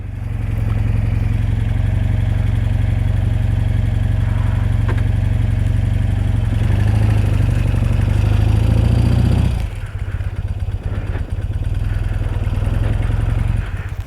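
A 1979 BMW R100S motorcycle engine idles steadily and loudly up close, a continuous low throb that drops in level near the ten-second mark and then settles into a lighter idle.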